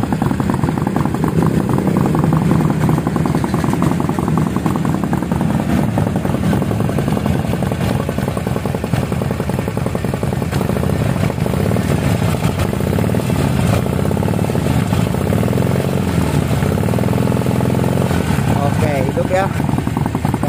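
A Harley-Davidson motorcycle with a custom muffler and the stock header behind a heat shield idles loud and close, its engine rumbling and shaking in a steady, continuous beat throughout.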